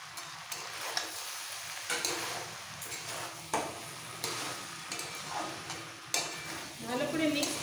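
A spatula scrapes and knocks through a pan of labra vegetable curry with sugar and fried spice mix, leaving irregular clattering stir strokes over a low background sizzle, close and moderately loud.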